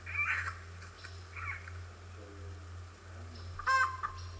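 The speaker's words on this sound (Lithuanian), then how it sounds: "čia yra vištos aliarmas ir tada visas kitas vištos staiga dingsta" Backyard chickens give an alarm call: a few short, sharp squawks spaced apart, ending in a louder burst, over a low constant hum.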